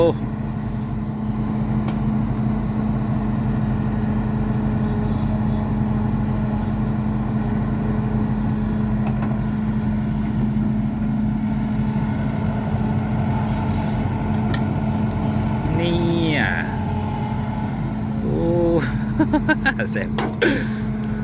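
A farm tractor engine runs steadily throughout while soil is being dug, a continuous low drone with a few brief higher mechanical whines near the end, and no talk over it.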